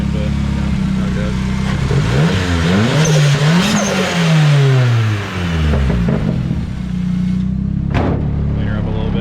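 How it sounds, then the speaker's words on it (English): Turbocharged Nissan 240SX with a KA24DE engine and a misfire revs up and down in several swells, loud and close, with a rough idle between the revs. "Should not be revving it, but how it goes."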